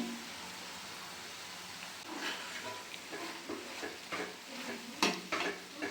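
Ridge gourd palya, with turmeric powder added, is stirred as it fries in a pan: a soft continuous sizzle with repeated spatula scrapes and light clatters that grow busier toward the end, with no voices.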